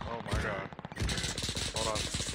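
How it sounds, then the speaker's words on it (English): Video game gunfire rattles in rapid automatic bursts, loud and close, with a brief pause before the shooting resumes and a player's voice talking over it. "Can someone please shoot at him?"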